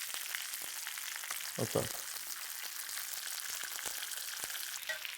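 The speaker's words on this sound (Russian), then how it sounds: "Сейчас мы вот это добавим, лук, который мы обжарили сверху." Previously fried onion goes into a hot pot of Azerbaijani plov, setting off a steady moderate sizzle with a couple of louder clattering bumps midway and a brief spoken word.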